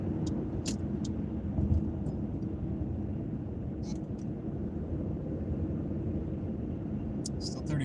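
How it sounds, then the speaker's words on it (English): Steady road rumble of a car cruising on a highway on a cold, rainy day, a continuous mid-level drone with faint brief higher noises, no talking. "Gotta drive the highway here."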